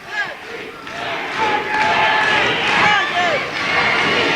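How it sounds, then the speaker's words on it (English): A crowd shouting and yelling at a Saranac high school wrestling match in 1995, a loud sustained roar of many voices with individual shouts rising out of it, close and continuous. "Saranac crowd shouting."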